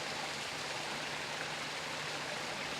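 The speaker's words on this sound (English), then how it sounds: "So behind me is a waterfall upstream of Waitara Creek." Waterfall on Waitara Creek, a steady broadband rush of falling water, close and loud, continuous with no voices over it.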